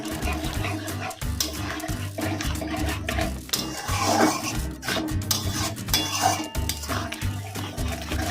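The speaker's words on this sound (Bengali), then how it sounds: "গ্রেভিটাতে দেওয়ার সঙ্গে সঙ্গে নাড়তে হবে" A cornflour slurry is stirred into chili chicken gravy in a pan, with continuous close scraping and clinking of the utensil against metal over a steady low bubbling hum, with no talk.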